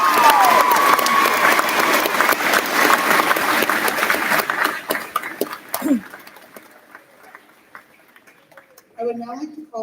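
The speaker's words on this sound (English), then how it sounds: "Please join me in a big round of applause for these participants." Audience applause at a school graduation ceremony, dense clapping filling the hall for about six seconds, then thinning out and fading to near quiet, with a brief voice at the very end.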